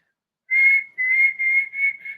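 Loud human whistling close up: a single clear pitched note held briefly, then three more sustained blasts with short gaps, each slightly wavering, with no talking.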